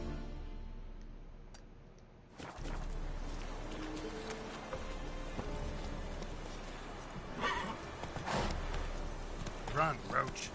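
Horse galloping and whinnying in the video game The Witcher 3, with fast, rhythmic hoofbeats after a quiet start and sharp neighs near the end, under a voice.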